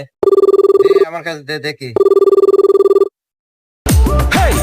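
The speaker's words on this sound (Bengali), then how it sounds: "রিং হচ্ছে" A telephone rings loudly in a repeating electronic trill, interrupted by a brief spoken line, then rings again before a burst of music.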